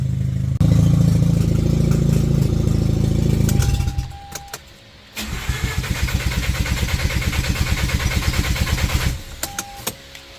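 Mazda RX-8 rotary engine, running hot, idles steadily and loudly, cuts out briefly around the middle, then idles again with a rhythmic pulsing before stopping near the end.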